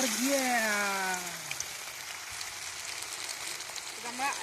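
Banana fritters dropped into hot oil in a pan: a steady close sizzle and crackle of frying, following a voice speaking at the start.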